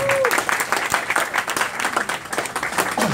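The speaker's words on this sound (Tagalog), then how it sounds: "bigyan siya ng malakas na palakpak bilang pasasalamat sa aking kaibigan, Congressman Elway Villafuerte." Loud applause from a crowd at a press conference, dense clapping filling the whole stretch, with a brief voice at the very start.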